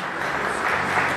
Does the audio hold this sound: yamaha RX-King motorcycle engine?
no